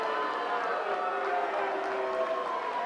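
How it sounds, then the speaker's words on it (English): Spectators at a Montana mixed martial arts bout in Livingston raise a sustained murmuring crowd noise, a steady wash of many voices at moderate level. "The crowd doesn't like it"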